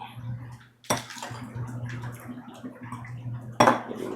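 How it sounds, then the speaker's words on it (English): Mango Dusse cocktail poured from a bottle over fresh ice in a glass, with a run of clinks and rattles as the liquid hits the cubes, plus two sharper knocks, close and fairly loud with no talking. "We're gonna pour our drink up."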